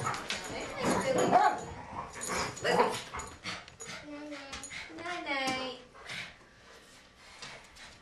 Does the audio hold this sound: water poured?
no